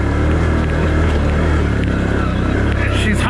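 A Can-Am Outlander 1000R ATV engine roars loud and close under heavy throttle while climbing a very steep hill, a constant dense rumble with wind noise.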